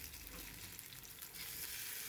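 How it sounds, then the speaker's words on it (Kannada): Masala-stuffed food frying in hot oil, a steady, soft, broadband sizzle and crackle that holds throughout without voices. "ಫೈನಲಿ ಇವಾಗ ಎಣ್ಣೆಯಲ್ಲಿ ಹಾಕ್ತಾಯಿದ್ದೀನಿ."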